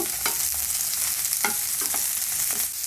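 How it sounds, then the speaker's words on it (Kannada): Okra frying in a pan for a Karnataka-style okra gojju, with steady crackling sizzle and several sharp scraping strokes of a spoon stirring against the pan, close and alone. "ಇವಾಗ ಬೆಂಡೆಕಾಯಿ ಹುರಿದಾಗಿದೆ."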